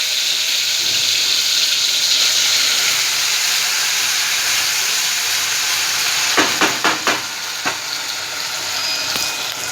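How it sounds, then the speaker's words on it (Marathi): Pomfret fish fries in a pan with a loud, continuous close sizzle and hiss. A quick run of sharp clicks and taps comes near the end, like a utensil knocking against the pan. No one speaks. "पापलेट फ्राय करूया."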